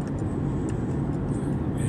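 Heavy Saturday road traffic crossing into Miami, a dense continuous rumble of engines and tyres heard from inside a moving vehicle, steady and fairly loud, with talk over it.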